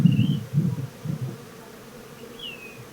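Honeybees in an opened Colorado beehive in May hum in low, pulsing buzzes that fade after the first second, with a couple of faint high chirps in the background.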